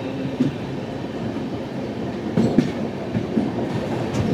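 The 12218 Kerala Sampark Kranti Express runs between Shoranur and Alappuzha, heard from inside with a steady rumble and rhythmic wheel clatter and a few sharper knocks, continuous and fairly loud with no voices.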